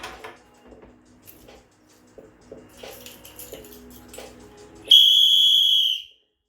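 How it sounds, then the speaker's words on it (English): One loud, shrill whistle blast sounds for about a second, alone and sustained, after a stretch of faint clicks and taps. "This is a whistle of joy."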